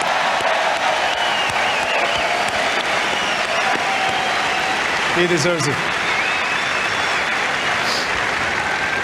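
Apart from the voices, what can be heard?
audience applause for Roger Federer at the Australian Open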